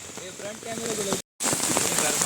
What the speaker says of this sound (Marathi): अजून पाऊस कमी कमी होता हळूहळू